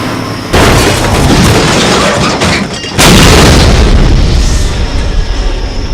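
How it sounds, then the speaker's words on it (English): A car blows up in a fiery movie stunt from Death Wish 2, a loud sustained roaring blast that surges again midway and slowly rumbles down, with no talking. "And then explodes in a good old, pyrotechnic way."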